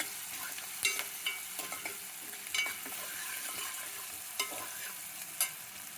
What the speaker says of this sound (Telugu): అదే వేగుతుంది కదా, తొందరగా వేగుతుంది.